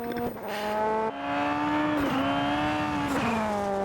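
Race car engine from the Automobilista 2 racing video game, heard during a replay: a loud, steady high-revving drone with shifting pitch and brief dips around gear changes, alone without talk.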